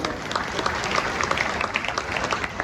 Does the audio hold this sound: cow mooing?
no